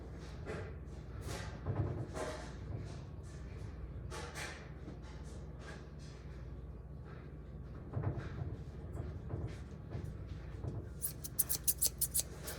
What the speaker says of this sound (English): Alright, I got the scissors.